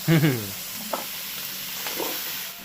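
Chittagong-style vegetable pachan cooks in a wok, hissing with a steady sizzle while it is stirred in short scrapes, close by; a brief voice opens the clip.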